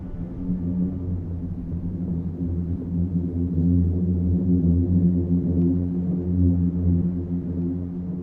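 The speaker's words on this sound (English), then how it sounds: "The sound you're hearing is actually coming from within the dunes themselves." A deep, steady droning hum from booming sand dunes in Death Valley, sustained low and resonant for several seconds with slight swells in loudness.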